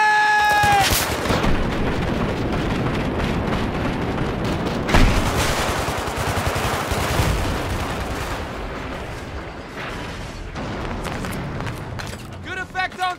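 Sustained suppressing gunfire in Battlefield 3, dense rapid shots and booming impacts rolling on without pause, with voices shouting over the battle noise.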